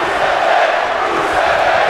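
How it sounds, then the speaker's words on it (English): Crowd in a WWE 2K20 wrestling video game arena: a loud, continuous roar of cheering with no breaks or peaks, filling the whole stretch. "the crowd here in full sound seems to be behind Rusev Day"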